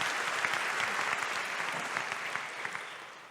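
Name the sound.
audience applause at WordPress keynote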